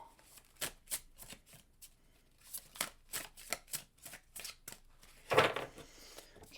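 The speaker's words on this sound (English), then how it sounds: "Clarify the courthouse one more, and then 3 shuffles." Tarot cards being shuffled close up, a quick series of crisp flicking riffles in bursts with short pauses, ending in a louder shuffle.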